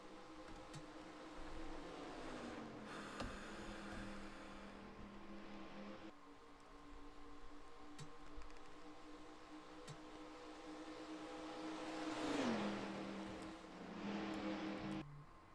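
Race cars in NASCAR Racing 2003 finishing a Monster Energy 500 event, with steady engine drone and cars passing by, pitch sweeping down as each goes past, fairly faint.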